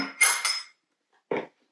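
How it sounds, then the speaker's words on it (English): A metal spoon clinks and scrapes twice against a baking dish while mashing butter with cinnamon, short sharp contacts separated by a quiet pause. "I'm just going to use my spoon and kind of smoosh that around in there"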